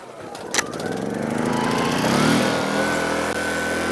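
A Yamaha EF1000iS inverter generator is pull-started: a quick cord yank, then the small engine catches and revs up into a steady, loud, close buzzing hum that rises in pitch and settles.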